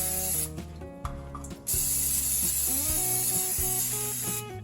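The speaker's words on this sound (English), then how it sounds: "I'm gonna spray my crock pot." Cooking spray hisses into a crock pot in a steady burst lasting about three seconds, close and fairly loud, over soft tonal background music.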